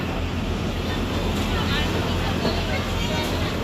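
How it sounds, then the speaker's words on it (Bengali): A passenger launch cruising on a river toward an island temple, its steady engine rumble and wash of water and wind filling the clip continuously, loud and close from on board. "লঞ্চ ছেড়ে দিয়েছে"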